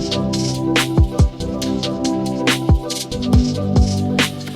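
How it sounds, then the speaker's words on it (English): A looping drum beat with punchy kicks and crisp hits over sustained tonal layers, steady rhythm, loud and up front. "And then with that, we had this drum loop."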